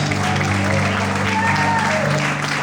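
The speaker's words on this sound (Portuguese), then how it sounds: "As fortes palmas, aleluia!" A church congregation claps strongly and steadily during a Sunday morning service, with a voice and sustained tones running underneath the applause.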